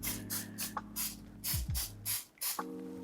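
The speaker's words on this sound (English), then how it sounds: "use some sort of oil cooking spray where you can brush it on so that way it doesn't stick." Several short bursts of oil cooking spray hissing onto a taiyaki pan, close up, spaced irregularly with brief pauses and a faint mechanical hum underneath.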